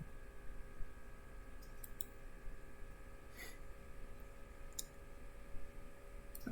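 Mouse clicks ticking a checkbox in 3D compositing software, a few faint sharp clicks scattered over a quiet background hum.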